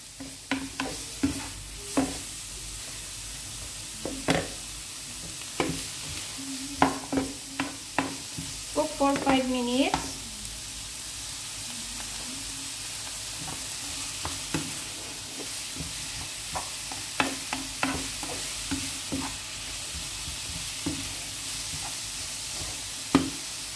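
Spaghetti meatballs frying in a pan, with a steady low sizzle under repeated scrapes and knocks of stirring that come in irregular bursts, close by.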